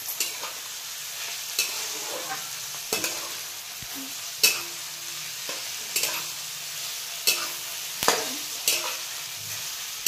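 Bottle gourd and coriander being sautéed in a pan for a village-style Marathi dish, with a steady sizzle broken by repeated sharp scrapes and taps of a spoon stirring against the pan, close and fairly loud, no talking.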